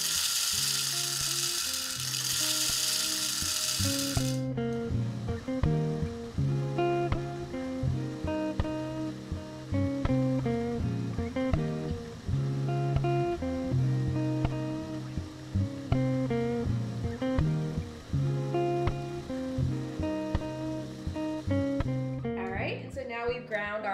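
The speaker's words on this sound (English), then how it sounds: "we are going to grind it to a medium coarse grind size." A grinder works 40 grams of medium-roast Ethiopia Sidamo coffee beans to a medium-coarse size, a dense, steady whirring roar lasting about four seconds, after which rhythmic background music carries on alone.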